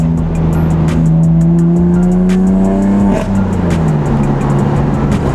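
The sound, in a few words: BMW M4 car driving with exhaust pops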